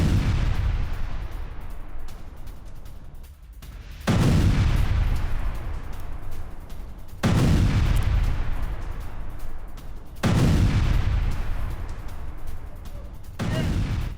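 Heavy explosions from Israeli bombing in Lebanon, shown as news footage: four loud, broadband booming blasts at roughly three-second intervals, each followed by a decaying rumble.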